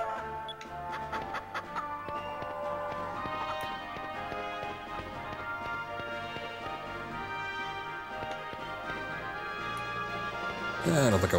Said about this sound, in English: I hear, like, chickens. Oh, they're the chickens.